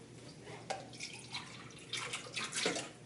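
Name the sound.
scooping water between fish tanks with a cup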